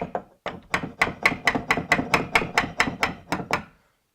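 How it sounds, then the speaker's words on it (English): A hammer strikes a metal door hinge pin about fifteen times in a quick, steady rhythm, knocking it down, each knock sharp and close, with no talking. "then I'll just use my hammer to knock it down"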